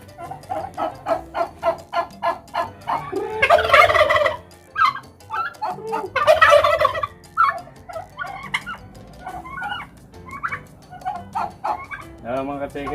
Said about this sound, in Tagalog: Mga ka-chicken pa sa pag-alaga ng pabo